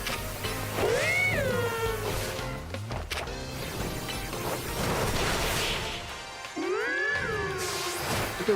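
Cat meows in a Pokémon video game set in Lumiose City, two distinct rising-falling cries separated by a few seconds, with game sounds and thuds between them.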